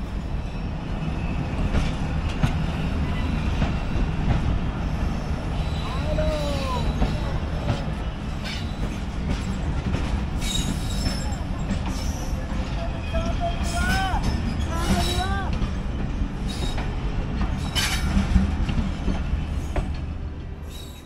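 Train running slowly through a station loop line in Pakistan, diverted past a derailed locomotive; a steady rumble of wagons fills the scene with faint wheel squeals and clatter, while voices murmur in the background.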